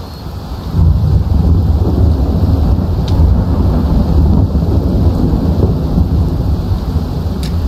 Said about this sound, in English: this thunder is extremely loud.